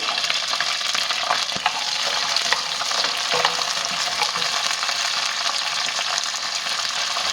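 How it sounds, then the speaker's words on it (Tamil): Small onions and garlic frying in oil in a pan while cooking Madurai-style mutton uppukari, giving a steady, loud, close sizzle throughout with occasional stirring scrapes and no talking. "இந்த வெங்காயம் சாஃப்ட் ஆகிற வரைக்கும் இந்த எண்ணெயில் நல்லா வதக்கி விட்டுக்கலாம்"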